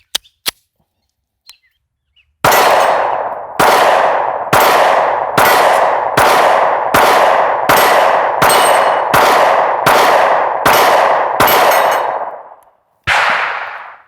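A Sig Sauer P365 pistol fires a string of about ten evenly spaced loud shots, each followed by ringing steel plates about 12 to 13 yards away, after a few faint clicks at the start.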